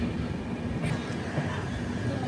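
Prasanthi Express passenger train at a station platform, a steady low rumble of rolling rail cars with faint clatter, continuous and fairly close.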